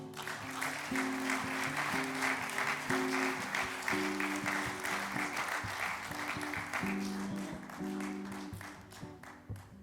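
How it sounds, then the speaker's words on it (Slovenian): Audience at a Slovenian table tennis club's 70th anniversary celebration applauds steadily for an award recipient, dense clapping under some tonal background sound, sustained for about ten seconds before fading near the end. "Še en aplavz, prosim."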